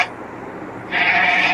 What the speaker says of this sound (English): This is a goat, बकरी.